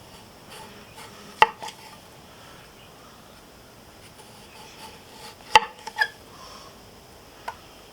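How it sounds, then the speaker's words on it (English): A knife cuts through a beefsteak tomato onto a cutting board, producing a few sharp, isolated knocks spaced several seconds apart over a quiet background, with no voices. "gotta slice this tomato"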